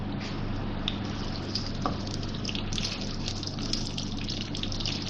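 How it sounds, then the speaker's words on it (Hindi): Sliced onions fry in about a quarter cup of hot oil for dal chawal, making a steady, even sizzling hiss that fills the whole stretch without interruption, with no talking. "ये प्याज डाल रही हूँ इसमें"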